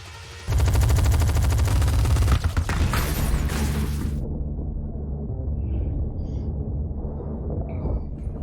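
Heavy automatic gunfire from the 2012 action film Dredd, a loud continuous barrage of rapid shots that cuts off abruptly, leaving a low rumbling aftermath and scattered faint debris sounds.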